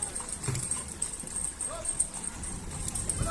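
Donkey hooves clip-clop at a steady walking pace, moderately close, with voices murmuring in the background.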